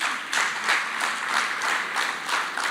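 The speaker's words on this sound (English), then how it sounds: "a big round of applause to them" Audience applause at a matric top achievers awards ceremony, a dense, close clapping sound that swells and dips in waves through the whole stretch.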